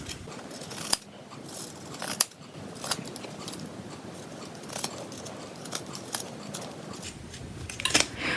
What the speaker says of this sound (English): I have my pinking shears and I'm going to cut close to the stitching